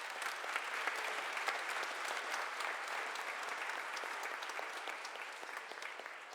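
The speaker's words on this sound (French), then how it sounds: "Une bonne main d'applaudissements pour parrains." A church congregation applauds the godparents at an Easter Day Mass, a steady, even wash of clapping that holds for several seconds and eases slightly toward the end.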